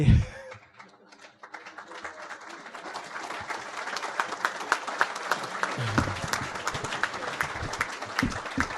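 An audience at a talk breaks into applause, starting faint after a brief pause and swelling into a steady, full crowd clapping that continues to the end.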